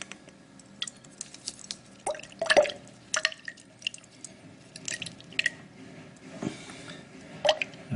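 Concentrated ammonia drips into a test tube holding silver bromide, giving a handful of small, close, distinct drip and splash sounds spread unevenly over a quiet background with no speech.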